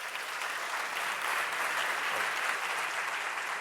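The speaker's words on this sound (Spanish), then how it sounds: "Aplausos." A crowd applauds continuously at a conference as a speaker is introduced, a dense wash of clapping that holds steady and fairly loud throughout.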